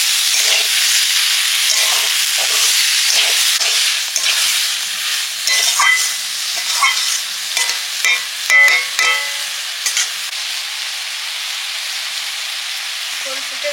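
Vegetables and greens that were lightly fried earlier sizzle steadily in a pan, with a continuous close hiss broken by repeated scraping stirs and no talking.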